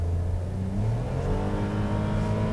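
A Daihatsu Taft 660cc turbo engine revs hard under full throttle on an open road, its droning pitch climbing steadily as it accelerates, close and loud.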